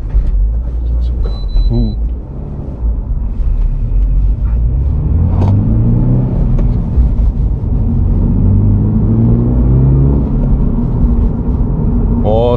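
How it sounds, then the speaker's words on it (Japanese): Inside a new Subaru BRZ (ZD8) with a 2.4-litre engine, the engine drone climbs steadily in pitch as the car accelerates hard. A constant loud road rumble sits underneath, and people talk in the cabin. "すごい加速いい。"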